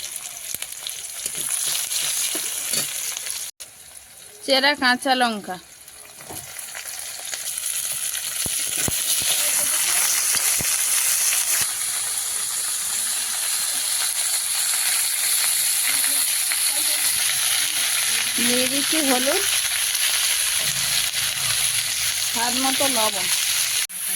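Spices tempering in hot oil in a wok, a continuous loud sizzling hiss that runs throughout, with brief bursts of speech heard over it.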